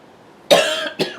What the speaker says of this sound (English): Be glad when this cough goes away.